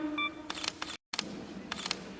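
A camera shutter fires twice in quick succession, then again after a short pause, with crisp mechanical snaps standing out clearly over faint room noise on a day out in Istanbul.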